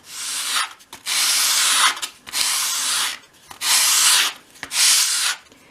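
A cut wooden strip for a 1/12 scale dollhouse wardrobe has its edge rounded off with close, loud sanding strokes. Five long rubbing passes are separated by brief pauses.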